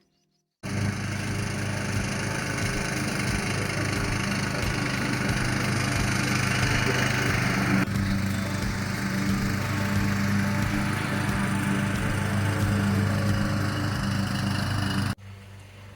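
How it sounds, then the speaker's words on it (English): A push lawn mower runs steadily outdoors at camp, its engine droning loud and close with a constant mid-pitched hum for about fifteen seconds before cutting off abruptly, no talking. "So until Sam's done on his mower"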